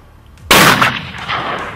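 A hunting rifle fires a single loud, sharp shot during a nyala and bushbuck hunt in Zululand, followed by a short rolling echo that fades over about a second.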